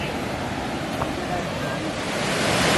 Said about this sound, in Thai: นี่บรรยากาศน้ำตกถ้ำพระ